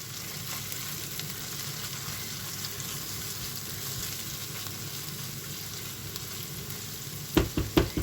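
Ingredients sauté with onions in a pan for a Turkish zucchini dish, giving a soft, steady sizzle with light stirring throughout, then a few sharp knocks of a utensil against the pan near the end.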